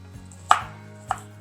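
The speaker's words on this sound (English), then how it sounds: "you're just going to continue to slice it and then turn it to chop it up." A knife chops through an onion on a cutting board, giving two crisp, close knocks about half a second apart after a softer first tap.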